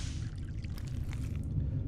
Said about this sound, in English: It sounded like water.